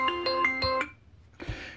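A Xiaomi Mi Max 2 phone plays a ringtone: a short run of about four bright, chiming electronic notes that stops abruptly, followed after a brief pause by a dull handling thump and rustle.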